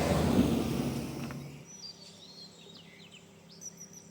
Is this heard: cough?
no